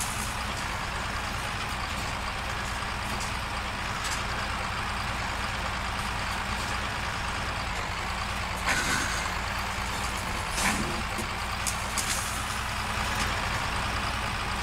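A Ural Polyarnik truck on huge oversized tyres drives in Spintires: a loud, steady engine drone runs throughout, with a few brief knocks and rattles from rough ground.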